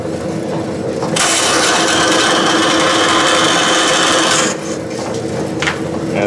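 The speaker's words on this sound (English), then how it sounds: "This is my metal cutting bandsaw, and I'm just cutting it roughly to length" Metal-cutting bandsaw slicing leather belting to length for a lathe drive belt in a machine shop, a steady loud rasping cut lasting about three seconds, close up, with quieter shop noise before and after.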